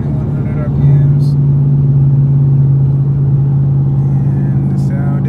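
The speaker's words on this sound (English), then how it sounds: "Here we are doing some highway driving. 77 miles an hour at about 2100 RPMs." A straight-piped 2013 Chrysler 300C cruises on the highway at about 77 mph and 2100 rpm, its exhaust a loud, steady low drone heard from inside the cabin without letup.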